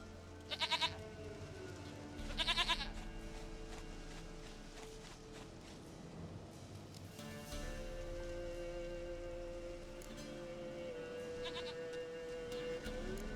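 A goat in The Witcher 3 video game bleats twice in quick bursts near the start, followed by ambient game sound and a few faint later cries.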